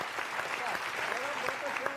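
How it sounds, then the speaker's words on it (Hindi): A crowd applauds at a live Hindi comic poetry show, with steady clapping throughout and voices and shouts layered over it. "ताली बजाओ एक बार जोर से"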